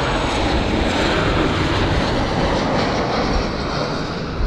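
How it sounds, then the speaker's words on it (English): An airplane passes close overhead near an airport beside a parking garage, a loud broad steady engine roar that fills the whole stretch with no voices. "Check that out, another airplane."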